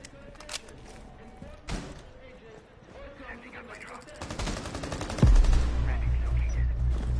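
Rainbow Six Siege match gunfire: scattered distant shots early, then a dense burst of rapid automatic fire and loud booming impacts toward the end, with commentators talking.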